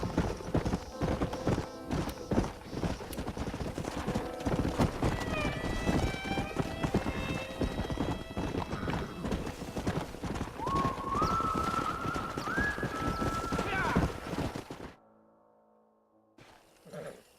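Horse hooves clip-clop at a gallop in the Red Dead Redemption video game, a steady rapid drumming under in-game music, with a whinny and game voices talking before the sound cuts out near the end.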